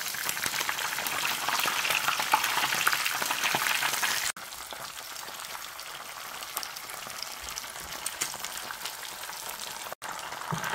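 Sea bass grilling in a pan gives a steady, close sizzle and crackle that holds evenly, with two brief cuts in the sound.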